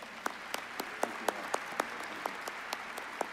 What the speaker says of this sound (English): Please join me in a round of applause for our platform party.